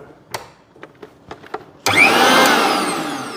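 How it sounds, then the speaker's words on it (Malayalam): A Prima 800-watt mixer grinder switches on abruptly after a few faint clicks and knocks, settling into a loud, steady motor whine and whirring grind that continues to the end. "എണ്ണൂറ് വാട്ട്സ് പവർ എടുക്കുന്ന ഒരു മിക്സിയാണ്"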